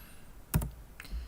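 A few quick keystrokes tapped on a computer keyboard to enter a drafting-software shortcut, two close clicks followed by a fainter one, near and alone in a quiet room.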